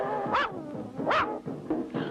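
A cartoon dog in a haunted castle barks and yelps in three or four bright, pitched bursts with warbling tones, loud and close, each separated by short gaps.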